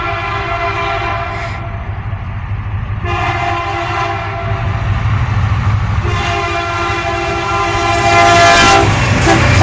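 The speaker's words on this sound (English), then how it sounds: "Oh, that's a cool horn." A Union Pacific freight train sounds its horn in the early morning, a loud sustained multi-tone blast held nearly continuously over the rumble of the passing train, swelling louder toward the end.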